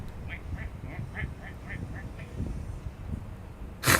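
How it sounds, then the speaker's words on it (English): Ducks quacking beside a lake at the Glenfiddich distillery, about eight short, evenly spaced calls at moderate distance over steady outdoor background noise, with a brief loud burst at the end. "You can hear quacking sounds."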